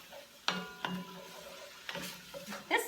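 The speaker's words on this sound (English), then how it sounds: "saute these" Chopped celery, shallots and garlic for an impromptu chili get tossed in a pan, with a few distinct clinks and scrapes of a utensil against metal over a faint sizzle, quiet and close.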